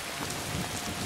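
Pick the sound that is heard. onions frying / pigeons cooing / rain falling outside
rain falling outside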